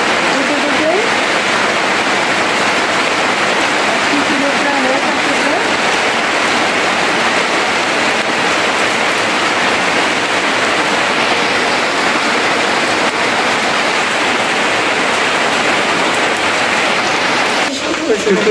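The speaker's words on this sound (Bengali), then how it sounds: "বৃষ্টি চলে এলো" Heavy rain pours down steadily for the whole stretch, a dense, loud, even hiss with no breaks, close by on a rainy day in a rural home.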